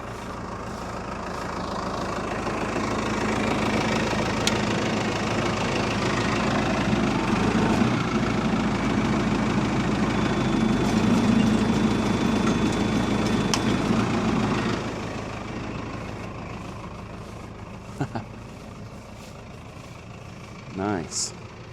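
A BR 7060 round baler spins up with a steady mechanical drone and low engine rumble that holds for about fifteen seconds, then drops away, leaving quieter idling and a few light clanks.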